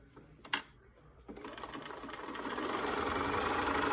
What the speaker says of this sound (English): you're going to sew on this curved part with a 1/4 inch seam like this.